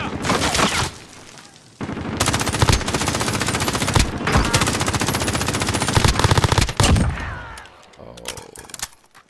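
Sustained automatic gunfire in the Call of Duty Warzone battle royale game, loud dense bursts of rapid shots running for several seconds, with players talking over the shooting before it tapers off.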